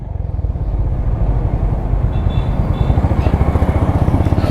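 A Honda H'ness CB 350 motorcycle pulls away in first gear, its thumping engine pulsing steadily and close by as it picks up speed, with no talk over it.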